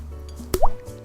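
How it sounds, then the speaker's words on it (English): Water drips through a wetted V60 paper filter into a carafe, a couple of close, distinct plops over a quiet background. "wet the V60 filter to get rid of any papery flavors while simultaneously warming the carafe"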